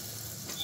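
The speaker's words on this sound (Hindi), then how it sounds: "ये मिर्च भी हो गई है इसकी अच्छे से फ्राई।" Chillies frying in a pan with spices, giving a steady close hiss of sizzling oil for a brief moment, with no voices.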